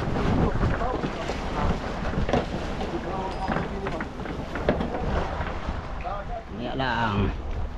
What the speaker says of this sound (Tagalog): Mahangin ba eh? Mahangin.